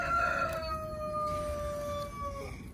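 A rooster crows a long drawn-out call close by in a backyard flock of chickens, the sustained tonal cry holding for over two seconds before breaking off, with faint background noise and no talking.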